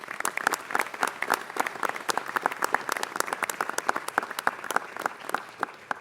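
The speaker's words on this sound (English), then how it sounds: "Let's give them all a big round of applause." A crowd at a city council meeting claps in a steady, dense round of applause, fairly close and sustained throughout without letting up.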